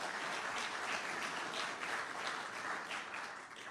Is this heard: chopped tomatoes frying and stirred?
no